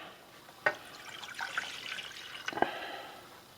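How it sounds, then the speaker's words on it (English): Vinegar is poured into a pot for heating to force a patina on a carbon steel Morakniv knife, a short burst of splashing liquid with a couple of sharper drips and spatters, close and fairly quiet. "Pour it into the pot."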